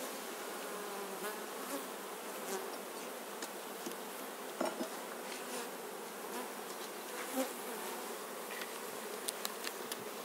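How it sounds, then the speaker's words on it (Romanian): Honeybees buzzing in a soft, continuous swarm hum as they are shaken off a crowded hive frame, with occasional faint knocks and ticks over it. "O scutur de albină."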